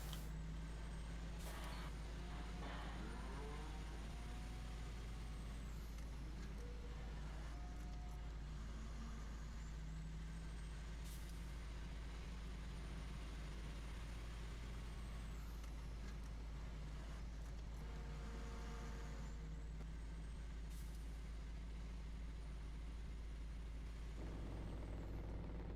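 Truck air brakes in the farming video game Farming Simulator 15, several sharp hissing releases spaced over a constant low engine drone with intermittent mechanical clatter.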